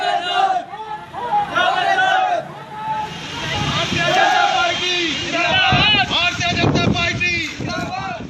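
Dense election campaign crowd in Gorakhpur, a loud, continuous mass of shouting, chanting and babble with louder surges, heard up close and outdoors with some wind buffeting.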